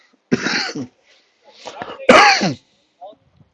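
Three harsh, hacking coughs close to the mic, separated by short pauses, from a commentator at a baseball game.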